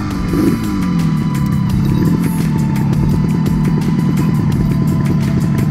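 A 1974 Yamaha RD350 two-stroke motorcycle with automatic oil injection runs close by, its engine holding a steady, buzzing idle with slight revs throughout and nothing else heard.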